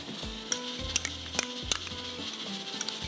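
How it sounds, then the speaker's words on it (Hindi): Desi ghee heating in a pan for a tarka sizzles steadily while a utensil stirs and clinks against the metal in a few sharp taps, close and moderately quiet. "ये देसी घी डाल देते हैं"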